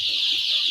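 A poultry house full of about fourteen thousand six-day-old chicks, freshly vaccinated against Newcastle disease, gives off a dense, continuous high-pitched peeping chorus with no pauses or voices.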